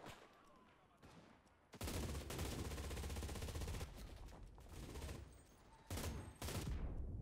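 An MG42 machine gun fires in the Enlisted shooter game as long, loud, extremely rapid bursts that roar continuously for seconds, pause briefly, then resume.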